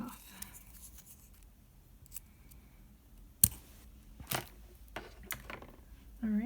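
Scissors snip beading thread while Art Deco beaded earrings are made: a few sharp, isolated clicks against a quiet background, one cut standing out clearly.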